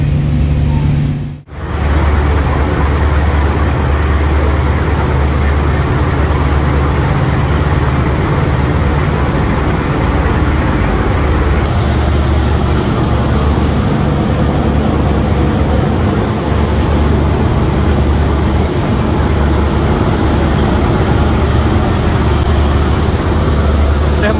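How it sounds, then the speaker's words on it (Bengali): The passenger launch Mayur 7 runs at speed between Dhaka and Chandpur, its engine and propeller thrust making a steady, loud, continuous low rumble and drone that holds for the whole stretch without pause. "মাথা নষ্ট একটা গতি নিয়ে আগে চলতেছে লঞ্চটা, চমৎকার প্রপেলার থ্রাস্ট।"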